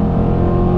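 Exhaust of a 2008 Dodge Challenger SRT8 First Edition revving in second gear, a loud, steady, deep engine drone heard briefly and up close.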